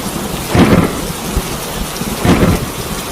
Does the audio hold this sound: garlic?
no